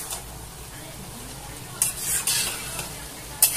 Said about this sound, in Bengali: তো এখানে ভালো করে একটু নেড়ে নিচ্ছি।